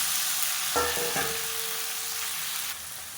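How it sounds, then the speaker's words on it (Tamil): Five finely chopped medium tomatoes hit hot oil in the same kadai for a millet masala adai, bursting into a strong, steady sizzle with a brief stirring clatter and no talking. "இப்போ அதே கடாயில் மீடியம் சைஸாக ஒரு அஞ்சு தக்காளி பொடியாக கட் பண்ணி வச்சுருக்கேன் இந்த எண்ணெயிலே அதையும் சேர்த்துக்கணும்"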